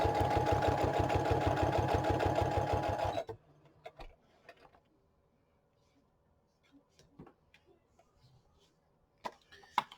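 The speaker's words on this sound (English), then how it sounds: "I think I'm going to stitch the green stamps onto this." Sewing machine stitching a strip of green stamps onto a library card in a junk journal: a fast, loud rhythmic mechanical chatter for about three seconds, then quiet with scattered paper rustles and taps.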